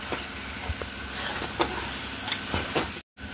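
Spiced masala with a little sugar sizzles in a pan while it is stirred down, making a soft, steady hiss broken by light scraping clicks and stirring taps, then a brief dropout near the end.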